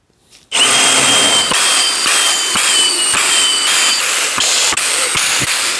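Power drill driving screws into wood while building a knock-down planing table: a loud, steady motor whine running continuously for several seconds, broken by regular sharp clicks or knocks about every half second, with no talking.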